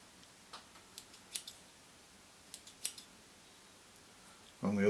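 Small scissors trim thread at a fly-tying vise, a few quiet, crisp snips in two short bursts in a hushed room, ending with a soft thump.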